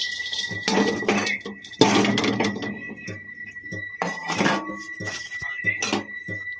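Dry coconut tipped into a pan for roasting while making homemade black masala, with sharp metallic clinks and scraping of utensil on pan in bursts, and a voice talking between them.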